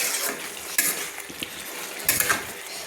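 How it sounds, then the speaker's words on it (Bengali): Fried cauliflower florets and potatoes are stirred with spices in a pan, a steady sizzle under scraping strokes with a couple of sharper clatters from the utensil against the pan, close and clear, with no voices. "আমি কিন্তু মশলার সঙ্গে একটু কষিয়ে নিচ্ছি ফুলকপিগুলোকে"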